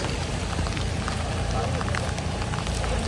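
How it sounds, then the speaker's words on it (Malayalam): Heavy rain on a roadside in the hills between Munnar and Marayoor, a loud, dense, steady patter and rush filling the whole stretch, with a voice talking over it. "മഴയായി മഴ കൂടി"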